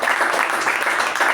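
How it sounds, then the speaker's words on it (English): A meeting audience claps for an evaluator and a speaker, a brief burst of dense, steady applause from a room of people. "gives evaluator and the speaker a big round of applause"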